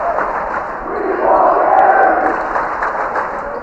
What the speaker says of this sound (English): The Oratory Rowdies cheering their famous chant, "We want Gary.